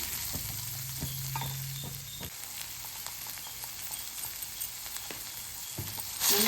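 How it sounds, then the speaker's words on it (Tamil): Tomatoes sautéing with salt in a pan for tomato aval upma give a constant soft sizzle and hiss, with scattered scraping stirs and light spoon taps against the pan, and no voices. "தக்காளி வதக்கிறதுக்கு கொஞ்சம் உப்பு சேர்த்துக்கிறேன்"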